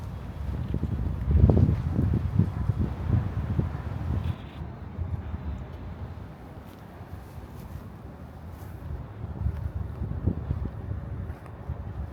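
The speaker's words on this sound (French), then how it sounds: "il y a du vent, beaucoup de vent" Low, rumbling wind buffets the microphone throughout at an apartment complex in Bangkok, strongest near the start, then easing to a steadier gusty roar with no voices.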